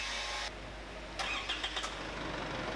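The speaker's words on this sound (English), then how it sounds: "it's just a matter of moving the car back a fraction." An Isuzu D-Max dual cab starts up to move back slightly. A quick cranking burst comes first, then a few sharp catches as the engine fires and settles into a close, low idle.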